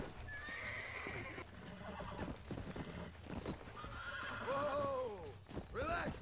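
A horse in the Red Dead Redemption video game whinnies and snorts over steady clip-clopping hooves, with two rising neighs near the end, while someone talks to it throughout.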